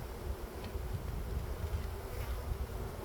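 Bees buzz steadily during removal from a thin breeding box, a dense low hum that holds at an even, moderate level throughout with no talking.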